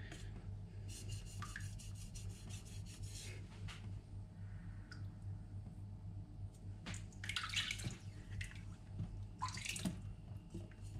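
Knife edge stroked across a Naniwa Aotoshi green whetstone, a few soft, wet rasping passes that come through faintly over a steady low hum.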